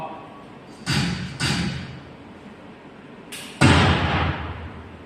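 Sharp reports ring out at a 10 m shooting range: a few loud, close cracks with short echoing tails, separated by quieter pauses.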